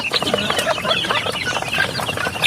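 A flock of young farm chickens cluck and chatter continuously while being fed, a busy, close, overlapping chorus of short calls.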